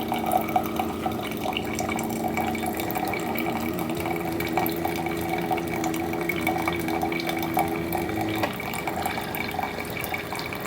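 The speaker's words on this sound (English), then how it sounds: "it used to make it really slow, like very slowly drip. Smart ass Keurig." Keurig coffee maker brewing, a steady close trickle of liquid over a low machine hum, with a faint gurgle that changes near the end.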